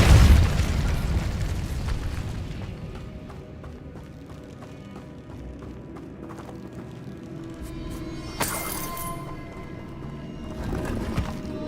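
Incendio and Repulsor spell blasts go off in Hogwarts Legacy. They come as booming bursts over a busy game backdrop, with a bright crackling flare near the end.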